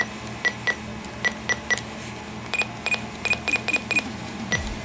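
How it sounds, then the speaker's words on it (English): Button beeps of a Reecom R-500 handheld radio, a series of short, clear electronic beeps in irregular bursts over a steady background hum, some pairs and runs close together. "Okay, the button beeps on the Reecom R-500."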